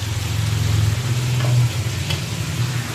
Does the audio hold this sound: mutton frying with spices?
yes